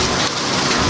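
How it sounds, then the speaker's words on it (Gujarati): Rain falling outdoors on a hillside climb in Gujarat, a dense, even wash of broadband hiss, loud and continuous for a brief moment. "જો વરસાદ આવી ગયો છે."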